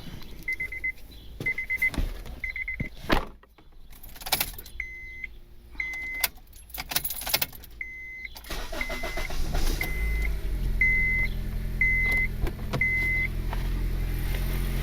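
Honda Civic with an R18 engine and an eBay turbo cranks with a repeating beeping chime, then catches and settles into a steady, loud idle close by.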